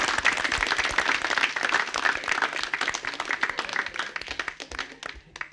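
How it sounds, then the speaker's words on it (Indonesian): Studio audience applause at an Indonesian TV talent show, dense steady clapping for about five seconds that thins and fades toward the end, with no talk over it. "tepuk tangan"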